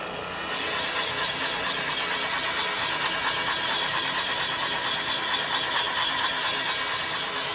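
KwikWay boring machine running on slow drive while working a 1948 Lincoln V12 cylinder block, a steady dense mechanical whir that starts up in the first half-second and then holds constant and fairly loud, with no talk.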